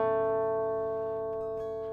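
An acoustic guitar rings out with sustained picked notes from the intro picking pattern of a song, a single clear chord fading over two seconds; no talking.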